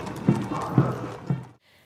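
Hooves of a horse-mounted cavalry regiment's horses in a parade, with three distinct clip-clop beats over a steady crowd-like murmur before the sound cuts off.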